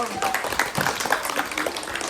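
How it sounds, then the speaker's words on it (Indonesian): A group claps together in a lively burst of applause for a team after a floor gymnastics performance, with voices mixed in underneath. "Tepuk tangan untuk kelompok 1."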